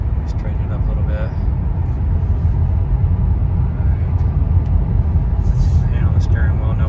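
A Tesla Model 3 Performance Highland fitted with wheel spacers cruises at 70 mph, giving a steady, dense low cabin rumble of road and tire noise that stays even and unbroken throughout.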